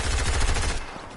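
Rapid automatic gunfire from the Fortnite video game, a loud, dense burst of shots that rattles continuously before thinning into a softer tail near the end.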